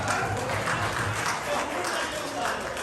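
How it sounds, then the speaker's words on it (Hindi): Audience applause at an Eid Milan party that has turned into a mushaira, a steady broad wash of clapping filling the space with murmuring voices mixed underneath. "तालियां"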